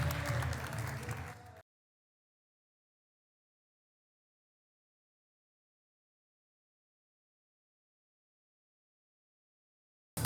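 Audience applause greets film producer Sunil Phadtare as he is invited onstage: a short burst of clapping lasting about a second and a half, then cut to silence.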